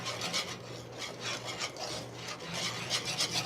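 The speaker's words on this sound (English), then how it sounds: "And then whisk quickly so it doesn't scramble or curdle." Rice pudding mixture is whisked quickly in a bowl, making a fast, steady scraping swish in rhythmic strokes, close and continuous with no voices.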